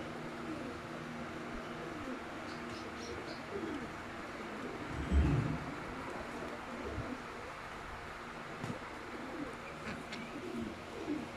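Young Teddy breed pigeons cooing softly in a loft setup, low murmuring coos with a few faint chirps against steady background hum, one louder burst midway.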